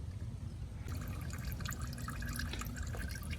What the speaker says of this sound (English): we loosen the drain plug. Now we're letting it drain.